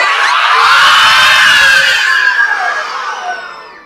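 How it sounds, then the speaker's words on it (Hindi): A large group, sounding like many children, shouts together loudly and all at once on cue, a sustained mass of voices that holds strong and then gradually fades over the last second. "जब हाथ को ऐसे उठाएंगे तो आप लोग चिल्लाएंगे"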